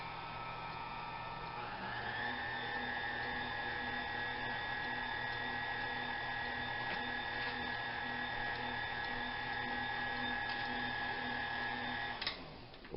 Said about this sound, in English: We're going to start out on low, kind of mix all these ingredients together.